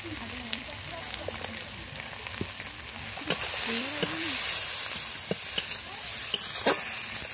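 Fish frying with tomato, turmeric and chili powder in a pan, a constant sizzle that grows louder midway, with sharp scrapes and clicks of stirring and a voice speaking briefly underneath.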